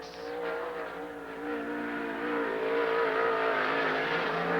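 A sprint car rolls onto a dirt speedway, its engine droning loud and close with layered harmonics that rise steadily in pitch and volume as it builds speed.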